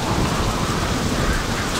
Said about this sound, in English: Oh, we did just go through a storm.